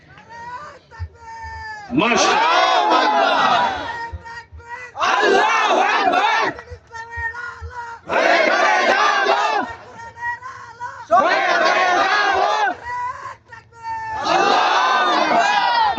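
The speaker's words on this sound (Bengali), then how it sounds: "এবার 3 বার আল্লাহু আকবার বলেন, দেখি কেমন জোর শক্তি হয়।" A large crowd at a religious gathering shouts loudly in unison three times, each roar lasting about two seconds, with a lone voice speaking between the shouts.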